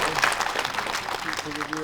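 Audience at a Manipur cinema golden jubilee celebration clapping, a short burst of dense applause heard under a man's speech.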